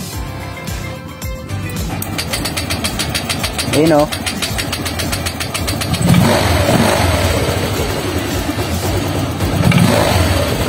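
A Honda Click scooter engine cranks and catches, then revs up and down loudly up close, with a person talking over the running motor.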